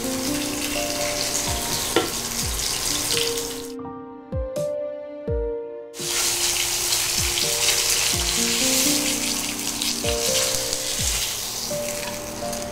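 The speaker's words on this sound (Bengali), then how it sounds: "আমরা একটু মাছগুলো ভেজে নিই সব কটায়।" Fish pieces fry in oil for a tomato fish dish, a constant crackling sizzle with background music over it and a short pause in the middle.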